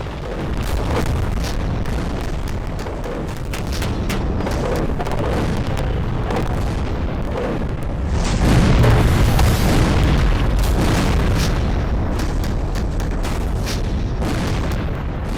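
A Russian tank explodes in Ukraine war footage, producing a sustained, loud, rumbling blast that swells into a heavier boom midway and keeps roaring with crackling bursts throughout.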